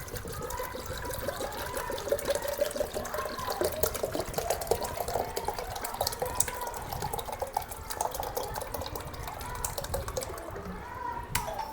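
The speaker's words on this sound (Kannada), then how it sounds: "ಮೊದಲಿಗೆ ಇದರಲ್ಲಿ ನೀರು ಹಾಕ್ತಾ ಇದ್ದೀನಿ ನೋಡ್ಬೋದು ನೀವು" Water pours steadily into a container with a continuous gurgling splash, close by, ending with a brief knock.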